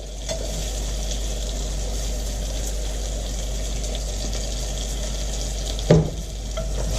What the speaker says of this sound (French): on va verser notre mélange de gingembre et d'ail